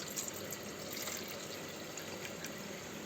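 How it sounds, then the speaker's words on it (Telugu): Water poured into a pressure cooker while making chicken biryani at home, a steady low splashing and trickling stream that runs continuously and fairly faintly, with no voices. "ఇప్పుడు నీళ్ళు పోసుకోవాలి."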